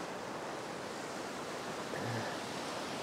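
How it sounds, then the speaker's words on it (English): Ocean waves rolling back out on a Hilton Head Island beach at sunrise, a soft continuous wash of surf, fairly faint and steady with slight wind. "catch these waves as they roll back out"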